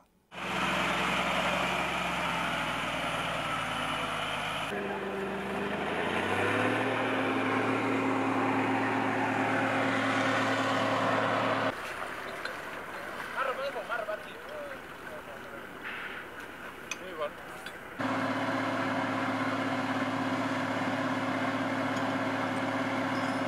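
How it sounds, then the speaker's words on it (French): Armored military vehicles bogged in mud in central Mali, engines droning steadily and loudly, revving and shifting pitch as they strain, with a rougher noisy stretch in the middle. "Les uns après les autres ou plusieurs fois de suite, les véhicules blindés s'embourbent."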